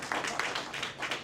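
Scattered clapping from a small audience comes in uneven bursts of a few hands at a time, close and brief, without cheering.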